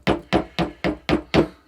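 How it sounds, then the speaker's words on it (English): A hammer strikes a seized TranzX bicycle dropper post six times in an even, rapid rhythm, each blow a sharp metallic knock with a short ringing decay, close and clear with no talk. "So I've smacked it with a hammer"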